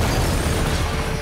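An explosion in the video game Just Cause 3 roars in a dense, loud burst of rumbling blast noise that fills the whole moment without letting up.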